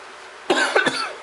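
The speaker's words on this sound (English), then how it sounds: "I've got a really bad cough." A single harsh cough from a man with a bad cough, two or three close, loud bursts in quick succession with no talking.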